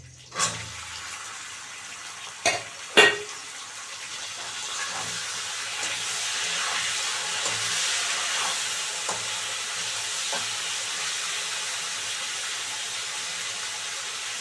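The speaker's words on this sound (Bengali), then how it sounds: "ভিন্ডিগুলো লাল লাল করে ভাজা হবে" Okra hits hot oil with a few sharp clatters, then settles into a loud, steady frying hiss that continues with occasional small pops.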